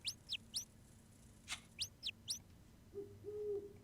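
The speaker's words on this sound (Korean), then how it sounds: "어디서 자꾸 새소리가 나나 했더니, 아, 얘였구나. 흰 백조들." White swans call in the video game Grim Legends 2: Song of the Dark Swan, a run of quick, high, thin chirps in small clusters over a low ambient game hum that swells near the end.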